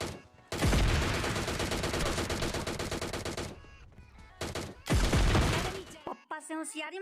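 Loud sniper and automatic gunfire in a shooter video game: two long, dense bursts of rapid shots, close and harsh, separated by a brief gap, then a short electronic game sound at the end.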